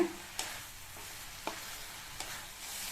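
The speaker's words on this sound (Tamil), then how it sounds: "இந்த பீர்க்கங்காயை நல்லா ஹை ஃப்ளேமில் வச்சு 2 நிமிஷத்துக்கு நல்லா வதக்கிக்கங்க" Ridge gourd sautéing in a pan over a high flame, a steady soft sizzle with a few sharp scrapes of stirring spaced about a second apart, close and moderately quiet.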